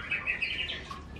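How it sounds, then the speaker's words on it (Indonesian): A recorded canary song, played as a training model for a magpie-robin bred from Ciamis, gives fast bright chirps and trills in short bursts over a faint steady background hiss. "Di sini kemudian kita pakai kenari ya"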